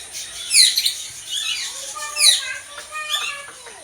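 Assorted colourful birds at an ashram give bright, repeated chirps and squawking calls in bursts, fairly close, with no talk over them.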